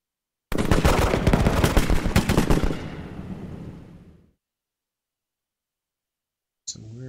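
Troops fire in a Rise of Prussia battle, a dense burst of crackling musket volleys and rapid shots that thins and fades into silence, followed by a faint brief noise at the end.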